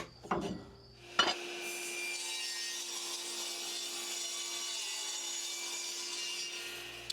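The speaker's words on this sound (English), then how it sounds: "now we're going to cut off a new piece of walnut to start the frame build." Handsaw cutting through a new piece of walnut board for a frame, a steady continuous rasping stroke that runs for several seconds after a couple of short initial scrapes, close and fairly loud.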